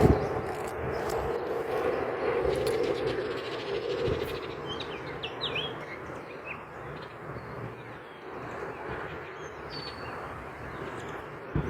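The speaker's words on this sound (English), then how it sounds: "and you hear the birds" Faint bird chirps and tweets from lush green, forest-like surroundings come through sparsely over a constant low outdoor rumble.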